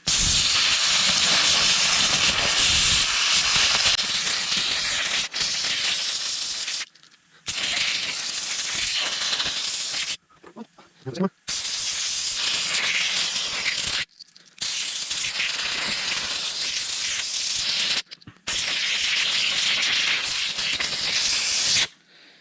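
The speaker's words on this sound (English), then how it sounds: "time to blow out these bearings" Compressed air blasting out wheel bearings during a Blitz project, in long loud hissing bursts of several seconds each, separated by brief pauses, close and harsh with no talk.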